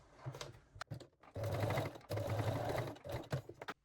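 A sewing machine sews a straight stitch to lock a seam on lace-back panties, running in a few short stop-start bursts of rapid stitching that are close and fairly quiet.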